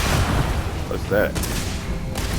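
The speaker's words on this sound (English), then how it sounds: "Mining laser." A mining laser fires in the Starfield video game, giving a steady, rough, noisy burst with a brief tonal whine partway through, close and fairly loud.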